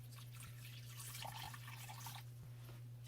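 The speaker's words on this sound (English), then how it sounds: "we're going to pour some water from my dechlorinated water jug and just kind of fill up the water bowl" Dechlorinated water poured from a jug into a water bowl inside an American toad enclosure, making a steady, close trickle and splash with light dripping, heard alone with a low hum underneath.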